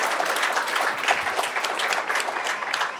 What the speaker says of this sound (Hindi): दूसरे पे जोरदार तालियां हमारे अमन भाई के लिए।